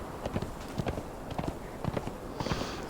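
Horse hooves clip-clopping in a steady galloping rhythm in Conan Exiles, close and fairly quiet, with no voices over them.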